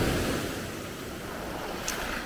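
Ocean surf washes steadily onto a warm Mexican beach, a continuous broad rush of breaking waves with light wind buffeting the microphone and no voices.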